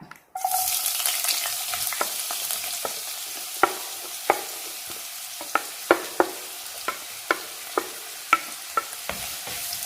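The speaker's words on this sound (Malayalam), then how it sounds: "ചൂടായ എണ്ണയിലേക്ക് ഇഞ്ചി ചേർക്കാം." Ginger frying in hot coconut oil in a pan, a constant close sizzle with regular spoon clicks and scrapes against the pan from stirring.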